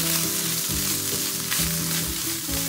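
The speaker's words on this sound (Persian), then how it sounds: "شعله گاز رو یه مقدار باید خم کنیم که رو به گوجه و سویامون حسابی با هم دیگه سرخ بشن" Tomato and soy frying together in a pan over a tilted gas flame, a loud dense sizzle with rhythmic low stirring thumps, close and continuous with no talk.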